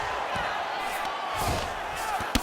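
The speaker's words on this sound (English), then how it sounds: "huge pop from the crowd as the fighters get back up to their feet" Arena crowd in the UFC 5 video game roars as the two fighters rise from the mat, a broad sustained wash of cheering with a sharp thud near the end.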